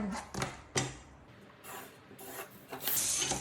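A line being drawn on a skirt pattern makes a close, steady scratchy rubbing that comes in a few strokes of varying length, with brief louder scrapes and no voices.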